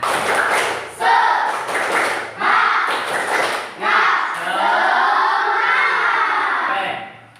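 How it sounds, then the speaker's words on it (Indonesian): A school class does a rhythmic encouragement clap together, several sharp bursts of group clapping in a patterned beat, followed by the children chanting loudly in unison. "coba tepuk semangat"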